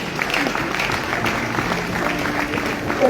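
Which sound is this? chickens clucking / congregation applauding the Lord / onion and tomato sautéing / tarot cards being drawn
congregation applauding the Lord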